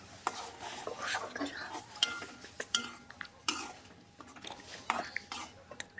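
A spoon stirs ground masala paste into spicy chutney in a pan, giving repeated quiet scrapes and metallic clinks against the pan at an irregular rhythm with faint background murmurs.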